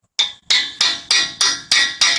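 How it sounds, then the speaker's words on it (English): A hammer strikes a punch tool set in the center of a stuck CV axle shaft on a driver's-side Honda CR-V, six sharp metallic blows at a steady, even rhythm, close and loud with short ringing decays. "and just hit it with a hammer"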